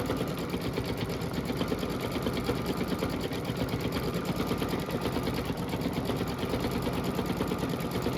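A Babylock embroidery machine stitches a built-in Halloween design, a loud, continuous, rapid needle rattle and motor drone holding steady throughout with no pauses.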